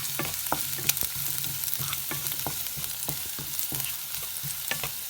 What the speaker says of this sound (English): So I have added it, the garlic. Saute it for some seconds